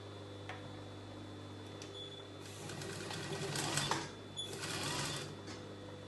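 An industrial sewing machine stitching fabric for a circle skater dress, a low steady motor hum with bursts of rapid needle chatter that rise and fall, fairly faint and close.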